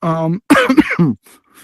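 A few rough coughs and throat-clearing sounds in quick succession, close and fairly loud, with a voiced sound just before them.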